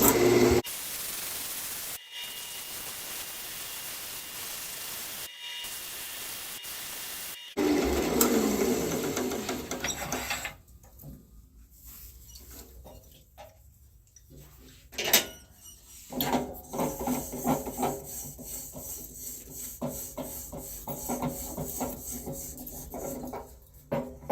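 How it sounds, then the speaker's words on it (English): Sanding the shape of a cherry and walnut segmented wooden vase, a rough abrasive rubbing that shifts from a dense steady hiss to choppier strokes with brief pauses, close and moderately loud. "So let me sand the shape a little bit."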